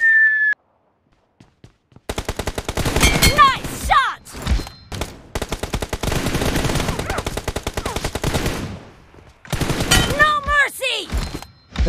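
Gunfire in PUBG, loud rapid automatic bursts of several seconds each, separated by short silences, with ringing metallic tails and a brief beep at the start.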